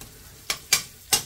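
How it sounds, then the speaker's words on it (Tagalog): Three short, sharp scraping strokes of stirring over a faint sizzle as mung beans cook in a pan, close by and with no talking. "magluto tayo ng munggo"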